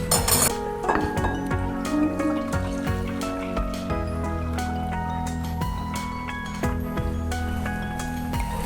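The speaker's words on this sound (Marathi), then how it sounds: "तर दुसरी कढई घेतली, त्याच्यामध्ये मी आता दूध टाकून घेते।" Milk is poured into a second kadhai while making carrot rasmalai, a light trickle under repeated metallic clinks and pan knocks, with no one talking.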